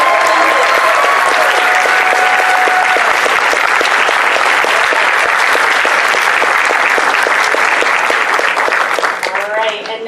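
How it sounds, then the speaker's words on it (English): A crowd at a furry convention talent show applauds the performers, loud continuous clapping with cheers and whoops throughout that eases slightly at the end. "one more big round of applause for all of our performers"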